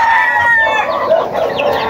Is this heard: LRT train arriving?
no